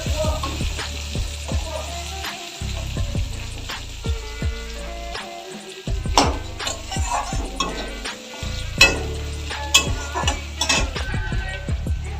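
Chopped onions fry in a pan with bay leaf, cinnamon and whole spices, a continuous sizzle with frequent spatula scrapes and taps, a low hum dropping out now and then.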